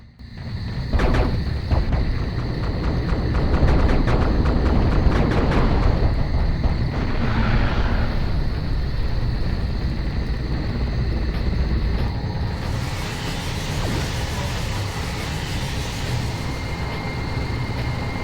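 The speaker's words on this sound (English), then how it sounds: "A wave of Francodyne choppers has arrived!" Francodyne attack helicopters arrive in a wave in the Destroy All Humans! Path of the Furon game, set in Belleville. A steady whirring rotor drone holds throughout, mixed with rumbling game noise and scattered bursts, and no pause breaks it.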